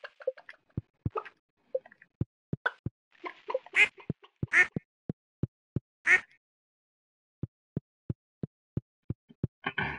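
Cartoonish duck quacks from the Stardew Valley farming game, short clipped calls coming in uneven bursts and clusters with brief silent gaps, close and clear with no talking.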